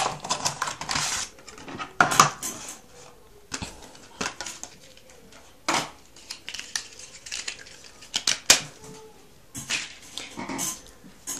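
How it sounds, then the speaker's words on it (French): A package holding a white Belkin View Case for the iPhone 5 is opened by hand, with scattered close crinkles, rustles and sharp plastic snaps and tears in irregular bursts between quiet pauses. "On va encore ouvrir un paquet."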